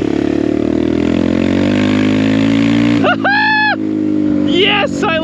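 A BBR KLX170RF dirt bike engine runs at a steady drone, then the throttle is cracked open in a few sharp, rising blips close by, with a voice talking briefly.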